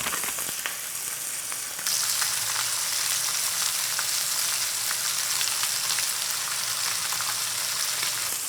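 Cheese frying in a hot pan: a loud, steady crackling sizzle that jumps up in intensity as the cheese goes in, then keeps going evenly with no talking.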